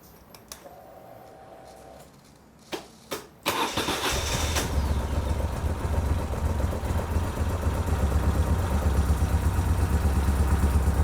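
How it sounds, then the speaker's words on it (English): A Moto Guzzi 750 Breva motorcycle has a few clicks and brief cranking, then the engine starts with a burst. It settles into a steady, loud, close idle that rumbles on to the end. "it's now time to start the bike and prime the oil system and get oil into that oil filter cavity."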